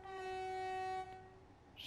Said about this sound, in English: Fair enough, horn has been used.